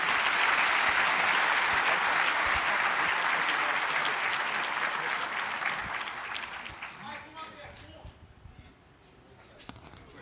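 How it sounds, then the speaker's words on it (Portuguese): Congregation applause in a church, a full, sustained clapping from many hands that stays strong for about six seconds and then fades out gradually, with a few scattered claps and murmurs at the end. "Você pode aplaudir ao Senhor aí?"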